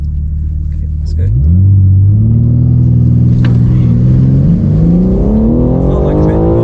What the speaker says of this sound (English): Just really impressed with the way this thing launches.